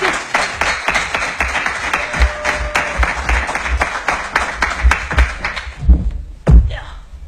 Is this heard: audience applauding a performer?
yes